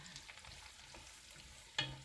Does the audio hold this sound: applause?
no